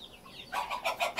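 Hens cluck softly in a warm coop, a few quick faint clucks in close succession.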